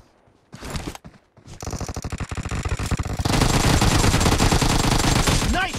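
Gunfire from the mobile battle-royale game PUBG Mobile: a few sharp shots, then a dense, loud, sustained burst of automatic fire with some overlapping shooting.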